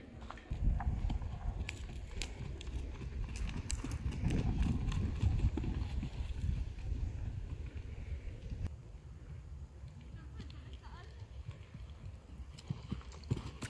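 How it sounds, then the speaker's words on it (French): Pony trotting back and forth, with steady, rapid hoofbeats that sound close at first and then fade a little as it moves away, over a background of outdoor rumble. "On passe au trot dans un sens, au trot dans l'autre"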